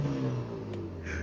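A Mercedes-AMG GT 53 engine revving with its exhaust valves closed, a muted low steady engine note that dips slightly then holds, heard close with no talking.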